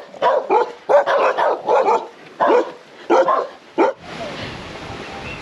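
Dogs in a rural village bark in a series of sharp, close barks, roughly eight in an irregular rhythm, followed by quieter background noise.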